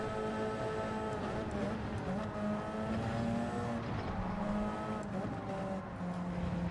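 Race car engine in Gran Turismo 7, revving and shifting through rising and falling pitch sweeps during a hard-tyre online race, steady and mid-level with faint tyre noise.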